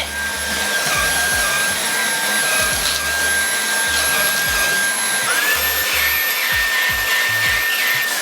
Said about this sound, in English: So you're gonna just vacuum it.